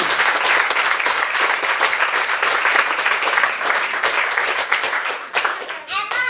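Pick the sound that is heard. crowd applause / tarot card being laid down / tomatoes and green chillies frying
crowd applause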